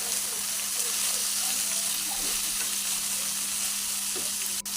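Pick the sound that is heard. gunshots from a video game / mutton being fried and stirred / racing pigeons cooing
mutton being fried and stirred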